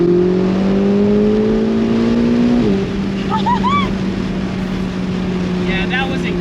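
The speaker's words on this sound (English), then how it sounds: "when you rip like that through your gearbox, shift down and punch it, that Lamborghini lets you feel it every single time" Lamborghini accelerating hard with a loud sustained engine whine that climbs, then drops sharply on a downshift before holding steady, with squeaky chirps and some talk in the background.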